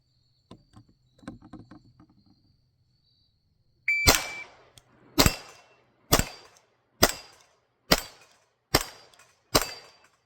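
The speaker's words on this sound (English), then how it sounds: "Let's try it with the Glock." Seven sharp Glock pistol shots ring out in a steady rhythm, each followed by a bright metallic clang of steel plates being struck, after a few quiet handling clicks.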